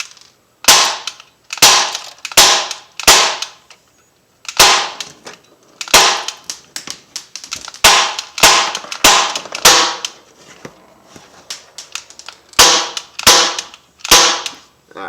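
An Umarex XBG .177 air pistol fitted with a T.A.C. converter fires a rapid series of loud, sharp, snapping shots, about twenty in quick irregular succession, close to the listener with brief pauses.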